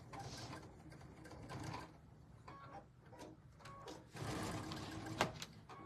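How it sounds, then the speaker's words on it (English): A sewing machine stitches fabric strips into pairs with a quarter-inch seam, a quiet, steady mechanical whir that pauses briefly and starts again, alone and fairly close. "I'm going to sew them into pairs"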